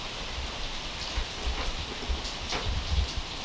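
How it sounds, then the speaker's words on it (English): Heavy rain pouring down in a steady, dense hiss, with scattered louder patters and splashes close by. No voices. "It is pouring. We're so thankful for this rain."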